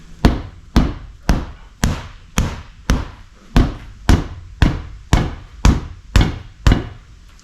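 Repeated hammer blows striking a tire to break its bead loose from the rim, about a dozen sharp, loud metallic thuds at a steady rhythm of roughly one every half second, each ringing briefly before the next.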